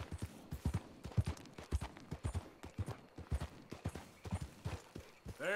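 Horse hooves clip-clop in a steady galloping rhythm as a rider travels in Red Dead Redemption 2, close and distinct, continuing for the whole span with no talk.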